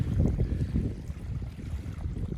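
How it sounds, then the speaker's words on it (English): Gentle waves lapping and breaking on the shore of Paulina Lake in Central Oregon's Newberry Volcanic National Monument, a steady low wash of water with light wind buffeting the microphone, close and continuous without voices. "listen to some waves gently breaking on the shore for a while"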